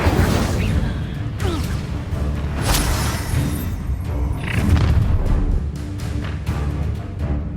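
Incendio fire spell cast in the Hogwarts Legacy video game, a loud dense roaring blast with whooshes and bursts over a rumbling combat soundscape, continuous throughout.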